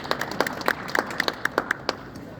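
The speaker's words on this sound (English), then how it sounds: "They deserve an applause." Sparse audience applause at a hand soldering competition award ceremony: a dozen or so crisp, separate claps from a few people in a room, moderately close and with no talk over them.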